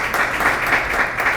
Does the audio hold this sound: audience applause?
yes